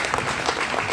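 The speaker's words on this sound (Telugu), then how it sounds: "ఒక్కసారి గ్రాండ్ క్లాప్ కొట్టు" A crowd breaks into a grand round of applause, a brief burst of dense, continuous clapping at steady volume.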